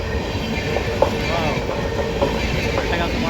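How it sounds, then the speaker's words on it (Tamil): A train travels through a forest area, its steady rumble and rattling wheels running continuously at moderate loudness, with faint indistinct voices mixed in the background. "ரயில் போயிட்டுருக்கு பார்த்துக்கோங்க"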